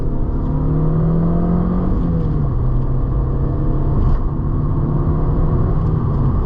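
An Audi TT 1.8 litre engine drones loud and close from inside the car as it accelerates through a curve, the pitch holding steady, then dipping once as a gear changes before climbing again.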